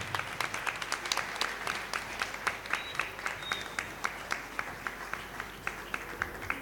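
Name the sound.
loud audience applause welcoming a guest to the stage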